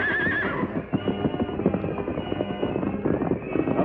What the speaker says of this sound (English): the masked man swiftly loosened the reins of the outlaws' horses and sent them galloping away